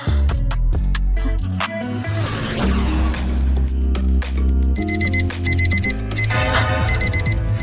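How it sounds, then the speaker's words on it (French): A loud electronic alarm blares continuously with repeating beeping tones over music-like melodic sound, close and insistent throughout. "Mon alarme! Il faut que je l'éteigne vite avant qu'elle ne se réveille."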